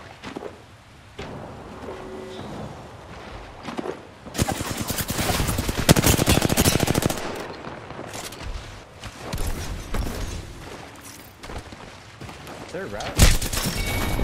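Bursts of rapid gunfire and heavy impacts in a competitive Fortnite-style match, loud and close, with players talking over the shooting in between.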